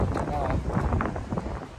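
Hurricane-force wind buffets a microphone outdoors near lakes, a loud, rumbling gusty roar with blustery bursts, heard under nearby talking.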